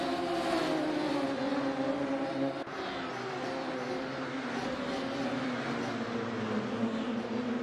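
Race cars in a Radical League round pour round the opening lap of a twisty, narrow circuit, a dense, steady engine roar holding at constant loudness for the whole stretch, with no distinct single car passing out of the pack.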